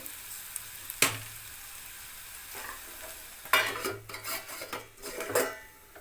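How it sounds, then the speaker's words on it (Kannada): Ivy gourd frying in oil over a low flame, a soft continuous sizzle with sharp bursts of spoon-on-pan stirring and scraping near the start and in the second half; no talking. "ಇದು ಸಿಮ್ಮಲ್ಲಿ ಇಟ್ಬಿಟ್ಟು ಇದನ್ನ ಇನ್ನೂ ಸ್ವಲ್ಪ ಹೊತ್ತು ಚೆಂದ ಫ್ರೈ ಮಾಡಿ"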